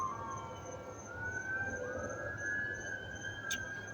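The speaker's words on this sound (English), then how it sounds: "you hear these sirens all night long" A wailing emergency siren rises and falls in the distance at night over a steady low rumble of traffic near a main road.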